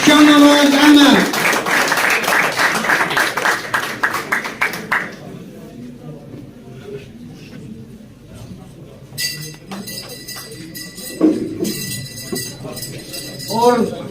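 A crowd at a pigeon tournament awards event claps in a dense burst that fades, followed by scattered clinking and light rapid clapping, with someone speaking over it.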